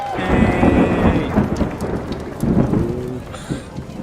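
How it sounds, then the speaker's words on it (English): Thunder rolling in the hills on a stormy Halloween evening, a loud sustained rumble with rain pattering throughout and a second swell of thunder near the end. "there's thunder in them there hills"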